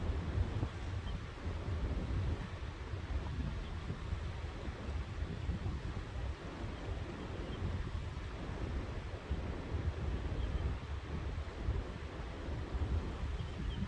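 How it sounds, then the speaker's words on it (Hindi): Steady wash of waves and water along the bank of the Ganges in the Himalayas, a continuous broadband rush with wind over it and no voices. "गंगा की लहरों की कल कल करती ध्वनि"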